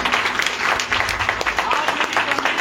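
A congregation claps together during a church service, a dense, fairly loud patter of many hands that continues steadily, with a voice speaking over it.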